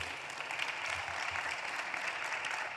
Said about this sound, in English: A round of applause for these ladies,